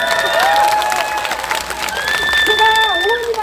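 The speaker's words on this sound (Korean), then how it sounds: "여러분 박수 한번 주세요" An audience at a neighbourhood town-hall meeting in Gyeyang 3-dong claps together in a loud, continuous patter, mixed with crowd murmur and voices throughout.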